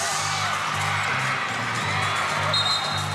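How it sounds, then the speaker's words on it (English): Noisy basketball crowd at the President's Cup 2025 finals game at Caloocan Sports Complex, a dense continuous roar of cheering and whoops with a low hum underneath, loud and sustained throughout. "we have a very noisy crowd here"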